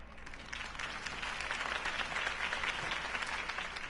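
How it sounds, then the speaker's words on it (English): A crowd at a Harvey Dent campaign rally in the Batman: The Telltale Series video game bursts into sustained applause, a dense wash of clapping and cheering that stays loud for the whole stretch. "could have heard that applause"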